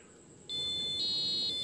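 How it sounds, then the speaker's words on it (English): A thin, high-pitched electronic buzzer tone from a Pomodoro timer starts after a short pause and holds steady, growing louder near the end, with no one talking. "the buzzer is beeping and it will not stop until you press the button again"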